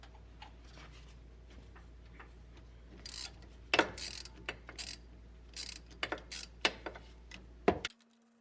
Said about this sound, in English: take out the 10mm lower shaft bolt. It connects the shaft to the steering gear.